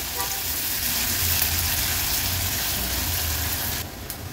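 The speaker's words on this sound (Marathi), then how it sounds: "गॅसची फ्लेम लो करून कांदा व्यवस्थित शिजवून घ्यायचा आहे" Chopped onion frying with curry leaves in oil in a pan over a low gas flame, a steady soft crackling sizzle that continues without a break, close by and moderately loud.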